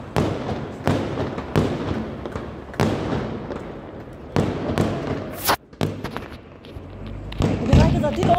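Fireworks at a show go off one after another, each sharp launch and bang spaced about a second apart, fairly close and loud, with people talking excitedly between the bursts.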